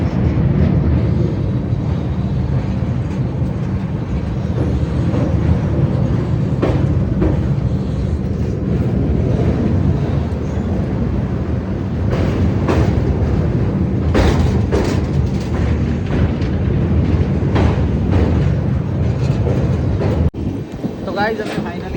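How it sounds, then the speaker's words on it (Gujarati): A train pulls into Patan railway station with a loud, continuous rumble and rattle of carriages, wheel clatter and occasional sharp knocks, and passengers chat nearby throughout. "પાટણ રેલવે સ્ટેશનમાં ગાડી એન્ટર કરી રહી છે"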